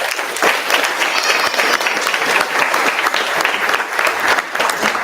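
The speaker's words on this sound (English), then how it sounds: "So let's give them a round of applause again." Loud, dense applause from an audience at a student startup demo day pitch event, a continuous crackling wash of many hands clapping that stays strong for several seconds.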